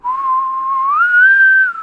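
A person whistles a single steady tone that rises partway through and holds for almost two seconds, close and clear with no talk, mimicking a whistle.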